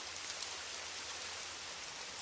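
Heavy monsoon rain pours steadily through dense jungle near the Pawankhind mountain pass, a continuous broadband hiss of drops on foliage, fairly quiet and even throughout with no voices.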